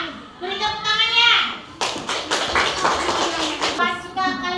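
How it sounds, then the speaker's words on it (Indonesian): A classroom of children claps together in a burst of rhythmic clapping and tapping, set between stretches of a teacher's voice before and after. "Beri tepuk tangannya"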